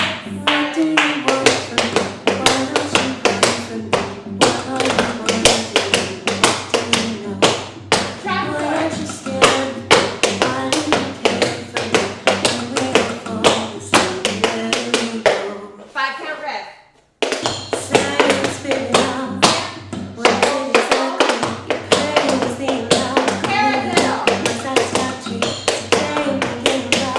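Tap shoes strike a hard floor in quick, crisp, rhythmic bursts of beginner tap steps, including heel drops, played over a pulsing low music beat, with a brief pause midway before the taps resume.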